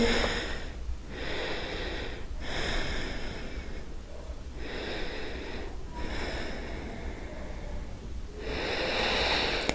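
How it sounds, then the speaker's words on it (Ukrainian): Slow, deep breathing during a gentle beginner yoga practice, with long drawn inhales and exhales following one another in a steady cycle, close and fairly soft, with no speech. "Подовжуємо вдихи і видихи."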